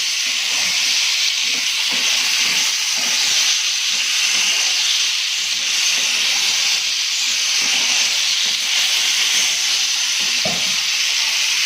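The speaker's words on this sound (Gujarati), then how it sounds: "ટામેટા આપણા સોફ્ટ થાય ત્યાં સુધી આપણે થોડી વાર એને હલાવીશું" Tomatoes cooking in hot oil and being stirred in a pan for an idli chutney, a constant loud sizzling hiss with soft, irregular scraping and stirring knocks underneath and no speech.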